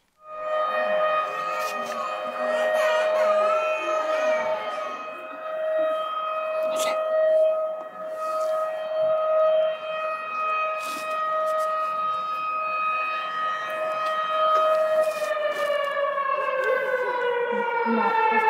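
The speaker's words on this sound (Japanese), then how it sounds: "サイレンが鳴り響いて います" An air raid siren wails steadily and loudly for a long stretch, its tone slowly rising and falling, with faint distant sounds beneath, at night in the West Bank.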